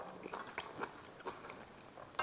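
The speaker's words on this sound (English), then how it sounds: "The carrot is still a bit crunchy, I must admit." Crunchy carrot from air-fryer slow-cooked pork being chewed and bitten close up, a series of soft crisp crunches spaced irregularly across a couple of seconds, with no talking.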